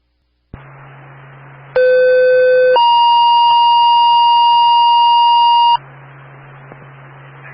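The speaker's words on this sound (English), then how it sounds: "Fire Lake Fire, you're being paged for a third alarm to assist Shakopee Fire at Minnesota Renaissance Festival" Fire dispatch pager alert tones for a third alarm: after a hiss of radio static, loud steady electronic tones play in two long stepped pitches for about four seconds, then the static returns.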